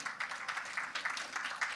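Applause from an audience at an employment expo for people with intellectual disabilities, a faint, steady patter of many hands clapping for under two seconds with no talk over it.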